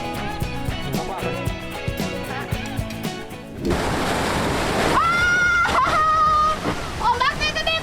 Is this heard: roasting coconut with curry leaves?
no